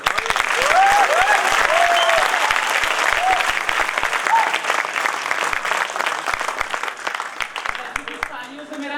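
Dense, loud audience applause fills the hall steadily for several seconds, with a voice cutting through now and then before the clapping thins out near the end.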